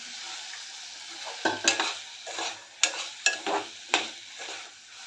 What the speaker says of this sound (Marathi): पावटा घालून एक दोन मिनटं चांगलं परतून घेऊया